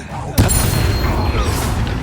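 A spell cast in Hogwarts Legacy lands as one sharp, loud boom-like burst, then fades into a sustained roar of game effects and background music.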